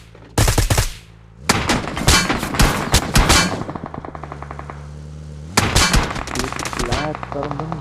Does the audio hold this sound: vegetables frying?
no